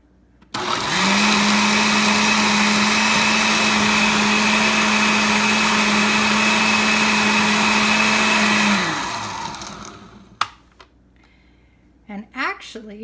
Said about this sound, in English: while I've got my blender to stir things up